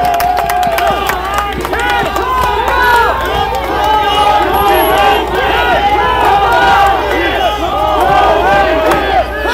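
Loud crowd at a political rally in Sangju Central Market, with clapping and cheering voices blending into a dense, continuous roar close by, punctuated by shouts.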